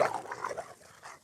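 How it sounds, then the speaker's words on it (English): A dog whimpers and gives low growls in a short, faint burst of uneven whines and rumbling noises, close by with no other sounds. "the dog that's doing all the noises is Storm"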